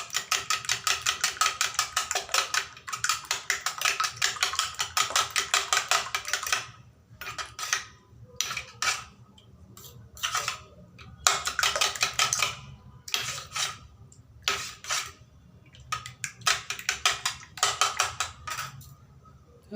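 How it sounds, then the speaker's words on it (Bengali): A fork rapidly beats eggs with Maggi masala and salt in a bowl, producing dense, fast clattering clicks in several long bursts separated by short pauses, close and fairly loud. "ম্যাগি মশলা দিয়ে দিচ্ছি, আর দিয়ে দিব একটু লবণ, দিয়ে ভালো করে ফেটিয়ে নিব।"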